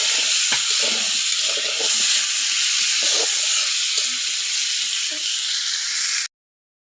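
Potatoes fry in a little oil in a pan, giving a steady close sizzle and hiss throughout, with a few soft clinks of stirring, before the sound cuts off abruptly near the end.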